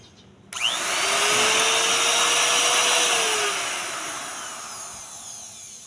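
Handheld wood router machine with a fast-spinning blade switched on: a sharp start, then a loud, steady high-pitched whine that holds for a few seconds before slowly winding down, close by and without talk.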